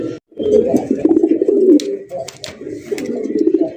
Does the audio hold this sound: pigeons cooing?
yes